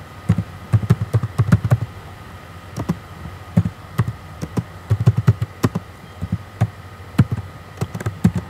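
A command is typed on a computer keyboard in irregular bursts of sharp, close key clicks with short pauses, and no one speaks.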